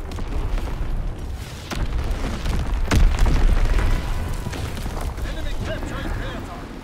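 Heavy booming explosions from Fritz X bomb strikes in the video game Call of Duty: WWII, a continuous rumbling barrage with sharper blasts near the middle, loud and dense, with voices talking over it.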